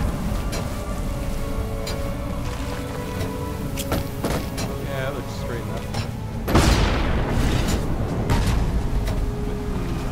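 A bomb blast in the co-op video game Lara Croft and the Temple of Osiris: one sudden booming explosion bursting out of a dense, steady game soundscape, loud and close.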